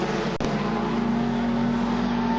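Race cars circling an oval track during a race, a steady loud engine drone with a sharp transient early on and the pitch holding under a sustained roar.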